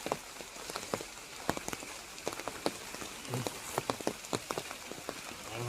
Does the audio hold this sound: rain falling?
yes